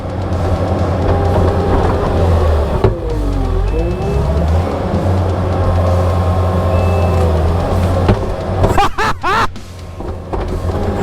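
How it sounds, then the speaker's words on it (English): Kubota skid steer with its throttle turned up to full, a loud, close diesel engine roar holding steady under load, with a high backup-style beep and clanking bursts of the bucket toward the end. "Turn the throttle up. I'm going to demonstrate the power of this Kubota."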